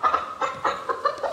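A giant chicken clucks in a quick series of close, fairly loud bursts, the calls repeating in an uneven rhythm with no talk over them.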